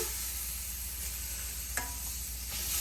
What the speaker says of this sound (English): I am going to just put some butter in here. You want to stir it around.